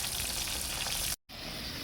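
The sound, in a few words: chicken frying with salt and Magic Sarap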